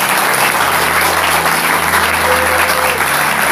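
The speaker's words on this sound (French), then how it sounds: "Applaudissons pour notre Seigneur Jésus." Congregation applauding during a Cameroonian revival church service, loud, constant clapping from a large crowd filling the whole moment, with a low sustained hum of music underneath.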